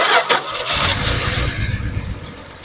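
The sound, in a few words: car engine cranking and starting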